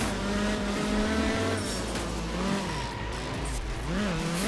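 A rally car engine in art of rally, on a dry Japan stage, revs loudly and steadily with rising and falling whines as it shifts, and tyres hiss underneath. No talking.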